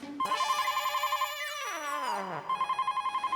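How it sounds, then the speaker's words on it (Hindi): A telephone ringtone plays alone, a steady electronic tone that slides downward mid-way before the pulsing ring resumes. "अंदर फोन की घंटी बज रही है"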